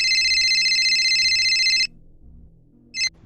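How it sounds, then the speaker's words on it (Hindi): A telephone rings as a sound effect in a Hindi horror story: a bright electronic trill holds for almost two seconds, then stops, and one short burst follows over a faint low background. "तभी फ़ोन की घंटी बजी।"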